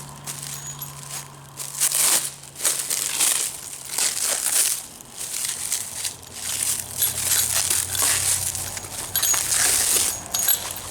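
Hands wrestling with crinkly plastic and cardboard packaging around a gearbox for a ShopBot upgrade, close irregular rustling, crumpling and tearing bursts with occasional light clinks.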